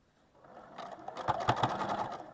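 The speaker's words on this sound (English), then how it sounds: "I'm going to sew right through that intersection" A sewing machine stitches through a fabric seam at a pinwheel block intersection, a quiet run of rapid mechanical ticks that starts slowly and speeds up over a couple of seconds.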